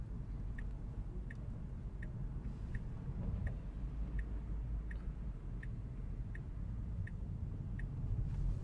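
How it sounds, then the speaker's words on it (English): Turn signal of a Tesla on Full Self-Driving ticking in a steady, even rhythm, about eleven crisp clicks, under constant highway road and cabin noise. "Okay, blinkers on,"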